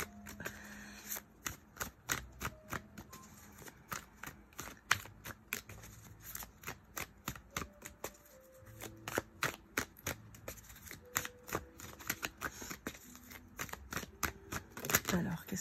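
Tarot cards shuffled by hand in a long run of quick, crisp riffling snaps and flutters, close and fairly quiet, with a few soft murmured words between the bursts.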